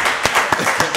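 Applause at a county board of commissioners meeting, a brief patter of clapping from a small group, with a few sharper individual claps standing out.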